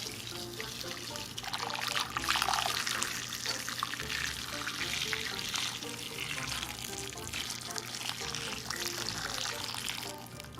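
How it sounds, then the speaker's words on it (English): Hot boiling water pours steadily onto asparagus in a bowl for several seconds, a continuous splashing trickle close by that swells and eases. "you're gonna add some really hot boiling water."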